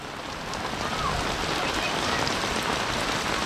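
Heavy rain pours down steadily in a rural hillside village, a dense, constant hiss of drops on surfaces all around, loud and unbroken with no speech.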